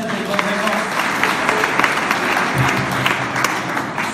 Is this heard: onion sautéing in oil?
no